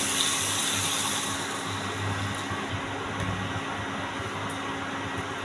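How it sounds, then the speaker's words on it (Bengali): A little water is poured into a pan of well-fried spices for a fig (dumur) curry, giving a continuous rushing, splashing wash at moderate level throughout, with no voices. "এখন একটু আমি জল দিয়ে দেবো, সামান্য জল"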